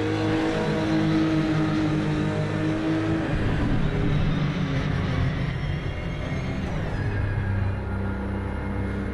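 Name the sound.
Porsche car engine in a racing video game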